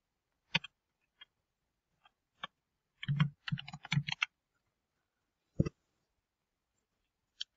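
A gift card product name is typed on a computer keyboard: scattered single keystrokes, then a quick cluster of clicks, then a few isolated taps, close and fairly quiet with no talking.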